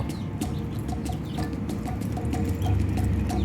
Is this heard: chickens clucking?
yes